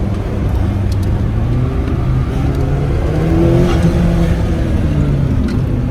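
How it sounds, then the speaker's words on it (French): Loud, close engine of a McLaren MP4-12C revving continuously as its tires are warmed up, with rising and falling pitch sweeps and a constant rough roar throughout. "On chauffe un peu les pneus."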